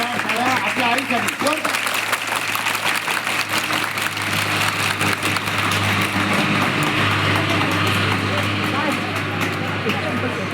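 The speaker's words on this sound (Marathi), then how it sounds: "याच्यासाठी टाळ्या वाजवा." Sustained applause from a school audience fills the whole stretch, dense and steady, with a low steady hum beneath and voices mixed in.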